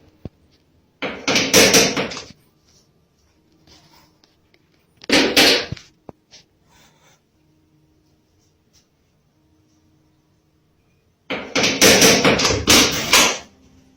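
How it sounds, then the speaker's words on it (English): Knocking on a bedroom door late at night comes in three loud bursts of rapid raps, separated by long stretches of near silence. "He hears something knocking on the door"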